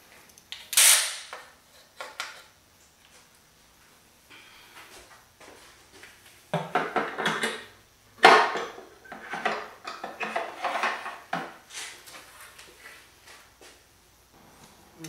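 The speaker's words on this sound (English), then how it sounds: "Last thing we'll do is remove the oil pan for the shorter unit." An oil pan comes off a 1973 VW Super Beetle with a shortened-sump Subaru SOHC engine swap, giving irregular metallic clanks, scrapes and creaks in close, scattered bursts separated by quiet gaps.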